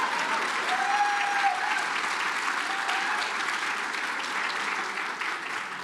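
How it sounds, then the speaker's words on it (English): A conference audience at Everything Open 2023, a Linux Australia event, applauds its lightning-talk speakers with steady, sustained clapping that holds at an even level throughout. "Please give them another round of applause."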